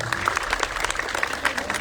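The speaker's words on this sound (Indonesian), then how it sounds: "Wow, tepuk tangan dong." A press conference audience claps in a short, lively burst, with dense overlapping applause filling the room for under two seconds.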